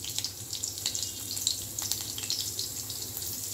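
Green chilies sizzle steadily in hot oil in a pan while a quick potato dish is cooked, a soft continuous crackle and hiss with no talking.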